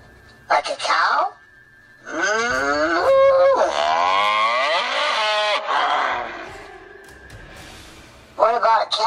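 A person imitates a cow with long, drawn-out moos, first a short low call, then a sustained wavering bellow lasting several seconds, followed by a brief final moo, close and loud against a quiet outdoor background.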